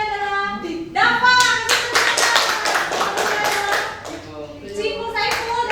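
A classroom in a chemistry lesson breaks into a few seconds of lively applause for the student placed third, with a teacher's voice just before and after the clapping.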